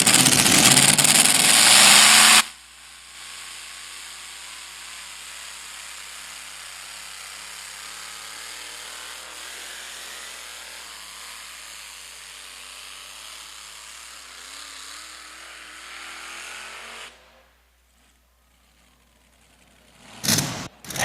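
A supercharged tractor roars under load during a county fair tractor pull, a loud sustained engine drone that holds steady for about fifteen seconds before cutting away abruptly, with a brief loud burst near the end.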